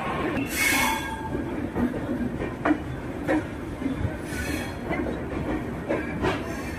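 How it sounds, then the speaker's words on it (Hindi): A train pulls out of Darbhanga station in India on a journey toward Kolkata, its wheels clacking in a steady rhythm with occasional metallic squeals over a continuous rumbling rail noise, close by and fairly loud. "हमारी ट्रेन जो है वो डिपाचर ले रही है दरभंगा से"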